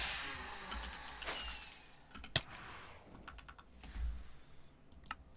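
Computer keyboard typing during a Minecraft play session, with scattered clicks and key taps at moderate level, a couple of sharper strikes standing out.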